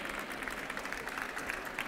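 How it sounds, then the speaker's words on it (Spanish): A graduation ceremony audience for an architecture class claps steadily, a dense even patter of many hands from a crowd in a hall. "pedimos un fuerte aplauso para ella también"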